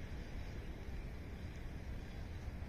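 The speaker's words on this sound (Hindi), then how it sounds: "हवा इतनी तेज है।" Strong wind roars continuously across an open spot during kite fights, a dense, buffeting rush over the microphone with no voices heard.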